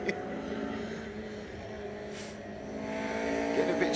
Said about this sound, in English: Mick is coming round in the HA Viva van.